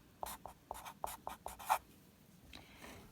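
Pen strokes writing numbers while working a quadratic formula problem: about seven short, scratchy strokes in quick, uneven succession, close and fairly quiet, fading into softer scraping at the end.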